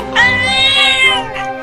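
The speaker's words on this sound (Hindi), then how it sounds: "मियाऊ" A cartoon cat meows once in a long, drawn-out, tonal cry lasting about a second, loud and close, followed by a brief fainter trailing call.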